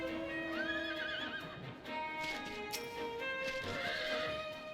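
A horse in a video game whinnies twice, loud rising-and-falling neighs over a bed of background music, with light hoof clip-clop between them.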